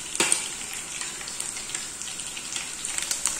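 Oil sizzling in a frying pan on a stove as chicken cooks for curry, a steady close crackle with brief louder spits and pops, no voices.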